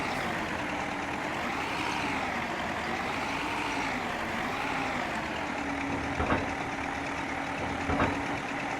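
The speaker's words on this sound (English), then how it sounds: "This is a loud little tractor." A loud tractor mower engine in the video game Farming Simulator 25 drones steadily with a wavering, slightly rising and falling pitch, broken by two brief clicks near the end, with no talking.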